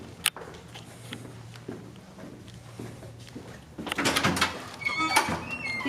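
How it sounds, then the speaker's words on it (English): Heavy doors at a high school swing open and shut in a corridor, a low thud and creak early on, then a louder cluster of clunks, rattles and squeaks toward the end, close by. "These are the loudest doors in Freedom High School, especially when there are classrooms going on."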